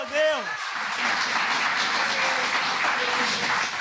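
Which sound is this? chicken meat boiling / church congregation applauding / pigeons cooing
church congregation applauding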